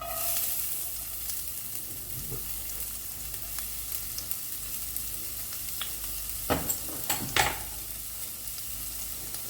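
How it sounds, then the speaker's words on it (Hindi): Finely chopped onion sautéing in hot oil gives a steady, close sizzle throughout, with a few brief stirring scrapes and clinks near the end and no talk. "तो यहाँ पे डालती हूँ मैं एक प्याज, एक छोटा सा प्याज ना मैंने फाइन चॉप कर लिया है।"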